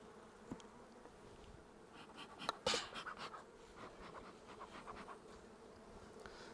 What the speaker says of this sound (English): Very gentle bees,